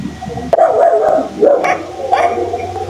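Dogs barking in an eerie scene with sparks flying and workshop noise behind, a few sharp barks and yips spaced over a few seconds amid a steady background hum.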